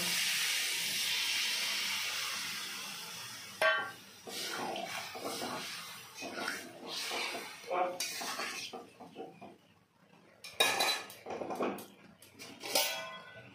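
Water poured into a pan of sautéed mixed vegetables sets off a loud steady hiss of steam that dies away. Softer stirring and scraping sounds follow in uneven bursts, close by, with no talking.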